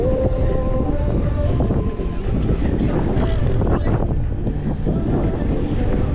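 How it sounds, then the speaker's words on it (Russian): Strong wind blowing along a road, rushing loudly and continuously over the microphone, with some speech beneath it. "Здесь смотри, как ветер дует."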